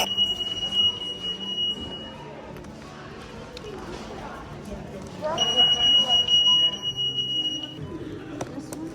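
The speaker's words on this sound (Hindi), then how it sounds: "यहाँ पे देखना अभी अलार्म बजेगा" A grocery store alarm sounds in two bursts of a steady high-pitched electronic beep, first at the start and again midway, loud over a busy background where people talk.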